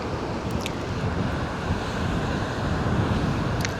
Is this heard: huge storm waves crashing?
yes